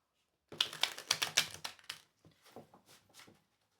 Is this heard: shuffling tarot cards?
yes